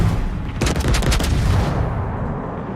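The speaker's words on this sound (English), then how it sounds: "What the hell is shooting?" Naval gunfire in World of Warships, a rumbling burst of cannon shots with a dense volley in the middle that fades into a low, sustained roar, no talking.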